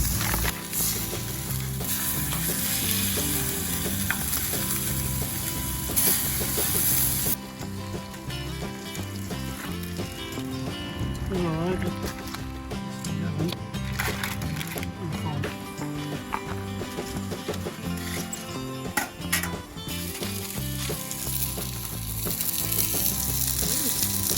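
Thick steaks fry in a pan at a seaside campsite, giving a loud, continuous sizzle with occasional crackles and stirring clatter throughout.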